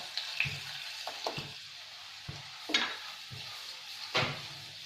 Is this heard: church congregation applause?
no